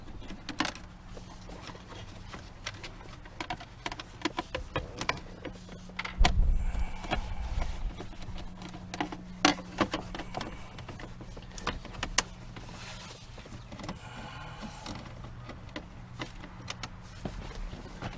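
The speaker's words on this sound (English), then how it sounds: "I got my detail person cleaning the door, so if you hear noise in the background, that's what it is." A detailer cleans a car door in the background, giving sporadic faint knocks, rubs and clicks over a low steady hum, with no one speaking.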